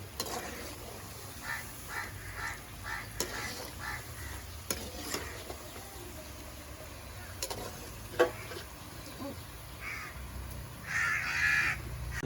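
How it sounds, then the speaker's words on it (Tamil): Pinnal paniyaram sweets deep-frying in hot oil give a steady low sizzle with occasional stirring clinks, while crows caw in the background. "நல்லா இந்த அளவுக்கு பொன்னிறமாக வரைகிற வரைக்கும் பொறிச்சு எடுத்துடணும்"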